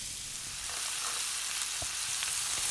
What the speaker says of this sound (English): fry them in the pan.